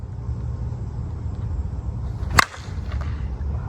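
A single sharp crack as a purple DeMarini Nautalai end-loaded slowpitch bat strikes a softball, ringing briefly over steady outdoor rumble and wind.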